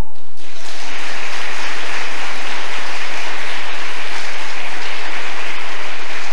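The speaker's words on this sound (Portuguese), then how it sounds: "Louva Jesus com as palmas." Church congregation clapping hands during a service, a loud, dense and continuous wash of clapping that fills the room, starting just after a brief pause.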